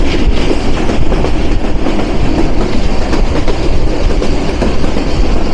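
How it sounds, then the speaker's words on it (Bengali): The Rangpur Express rolls through the Bogura countryside in Bangladesh, a loud, steady rumble with rhythmic clickety-clack of wheels on the rails heard from on board, with no voices. "আমাদের ট্রেন এখনও রান করছে"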